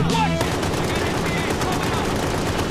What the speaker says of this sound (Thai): โอเค เราเจอปืนกล